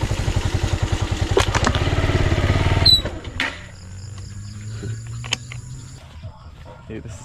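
A new motorcycle engine idles loudly up close with a fast, steady putter for about three seconds, then cuts off, leaving quieter background clatter and a faint low hum.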